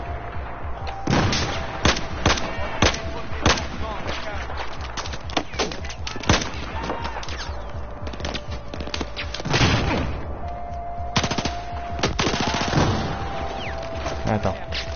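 Gunfire in the video game Battlefield 4, with repeated sharp close shots and heavier booms in irregular bursts across a mountain battle, while people talk throughout.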